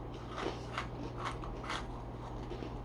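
Biting and chewing a crunchy snack from a snack-crate sampler, with several soft crunching bites spaced through the stretch over a steady low hum, close to the mic and moderately quiet.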